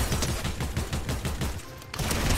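Rapid gunfire in a video game, a steady run of close, loud shots for about two seconds with a brief gap before the firing resumes.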